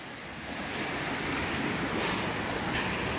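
Palale Falls in Malinao, Albay roars as a continuous broad rush of falling water, loud and close, with no voices over it.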